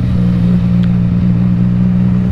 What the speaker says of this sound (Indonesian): Aduh, bahkan di riding terakhir pun aja masih enak nih motornya.